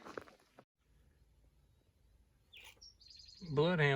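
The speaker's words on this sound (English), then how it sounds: "that bird over there taking a bath is a rufous-sided towhee" A rufous-sided towhee bathing beside an Appalachian Trail path gives a few short, bright chirps and a quick rising call at moderate distance in quiet woods, followed by a person starting to talk.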